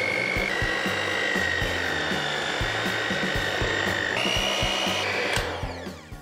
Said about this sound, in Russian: Теперь миксер.